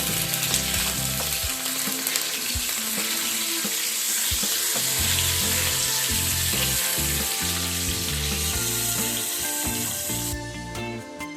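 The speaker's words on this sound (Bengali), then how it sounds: "হালকা লাল করে ডিমগুলোকে ভেজে নেব।" Four boiled eggs frying in a pan, a dense, continuous sizzle with occasional stirring clatter, loud and close with no talking.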